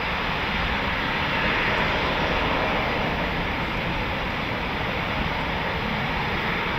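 A de Havilland Chipmunk trainer of the Battle of Britain Memorial Flight at RAF Coningsby runs its piston engine, a loud, steady drone close by, alone and unbroken throughout.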